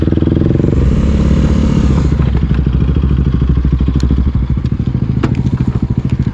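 A motorcycle fitted with an Akrapovic exhaust idles loudly and close by, its rapid, throbbing exhaust pulses steady throughout with occasional clattering ticks on top.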